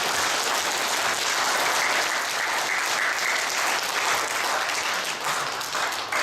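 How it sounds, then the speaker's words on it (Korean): Audience at a book concert held with a National Assembly member gives sustained, even applause, thick continuous clapping throughout with no talk over it. "강 의원님께 위로경 축하의 박수를 부탁드리겠습니다."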